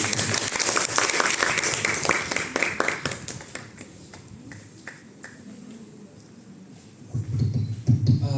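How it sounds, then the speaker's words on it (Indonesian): A room of attendees at a reproductive health talk claps to welcome a doctor, the applause fairly loud for about three seconds, then thinning to scattered sharp claps before a voice and room noise rise near the end. "Kita tepuk tangan dulu dong."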